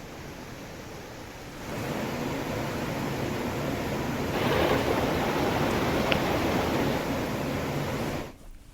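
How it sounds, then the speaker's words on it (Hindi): The swollen Yamuna river in flood during heavy rain in Uttarakhand, its water rushing in a steady broadband roar that swells louder midway and then cuts off abruptly. "यमुना में उफान और लोगों के घरों में घुसा है पानी"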